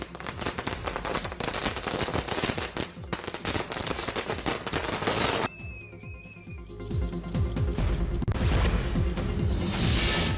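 Firecrackers bursting at a street celebration by political supporters, a dense crackling barrage of rapid pops, briefly quieter with a whistling streak, then crackling again loudly.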